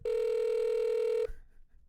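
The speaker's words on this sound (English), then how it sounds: "I'm calling you again." A steady telephone tone sounds alone for just over a second, loud and close, then cuts off abruptly, leaving faint room noise.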